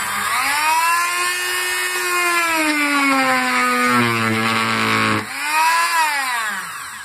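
A high-speed rotary tool spinning homemade sandpaper against a small piece of wood, a loud whining motor whose pitch dips and rises as it bites into the surface, continuous and close.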